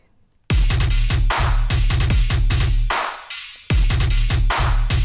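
A heavy synth bass rumbles and growls under a driving EDM drum beat in dubstep sound design, loud and dense throughout, briefly dropping into a filtered sweep before the full groove slams back in.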